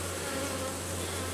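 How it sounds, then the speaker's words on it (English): Honey bees buzz steadily around a full brood frame during a hive inspection, a close, continuous droning hum with no talk. "So I'll let the bees get back on it for a little bit,"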